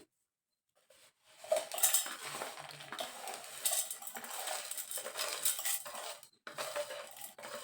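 Cooled cooked food for a raw mango chutney is spooned into a mixer jar, with soft scraping and clinking of a metal spoon against the vessels. The sounds come in quick, faint bursts with short pauses.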